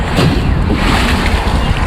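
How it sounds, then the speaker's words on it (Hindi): Sea waves crash and wash against the rocky shore in Muscat, Oman, a loud, rough surge of water with wind buffeting the microphone over a brief stretch and no talking. "पानी की लहर लगती है पटक करके, ये देखिएगा फिर आएगी"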